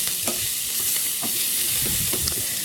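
Squid sautéing with a knob of salted butter in a hot pan, a dense, steady close sizzle with soft scattered stirring scrapes throughout and no voices.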